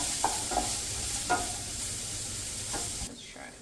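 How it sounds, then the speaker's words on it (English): Home-grown garden vegetables sauté in a pan on a home stove, giving a steady soft sizzle with a few faint stirring clicks, then quieting near the end. "I'm just going to let them saute"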